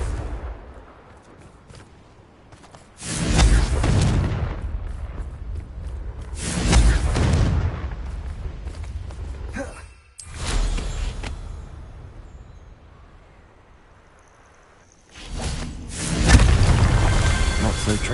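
Confringo blasting curse explosions in Hogwarts Legacy, several heavy booming blasts spaced seconds apart, each a loud low rumble decaying slowly, with speech between them.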